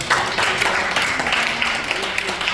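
Church congregation applauding a newly introduced couple, steady dense clapping filling the room for a couple of seconds with a murmur of voices underneath.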